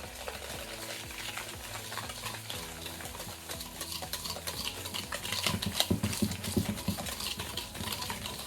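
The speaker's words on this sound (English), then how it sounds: "I'm going to whisk all this together" A whisk stirs granulated and packed brown sugar together in a bowl for brownies, a continuous scratchy, gritty rhythmic scraping with light metallic taps, close and steady.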